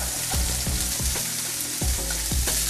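Potatoes fry in butter with garlic for a filet mignon dish, a loud continuous sizzle with repeated thumps and scrapes of stirring at a steady rhythm, close and dense, with no talking.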